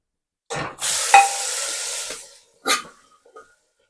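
Marinated chicken dropped into hot oil in a pressure cooker gives a loud, steady sizzle lasting about a second and a half, then a shorter second burst of frying hiss, with quiet between.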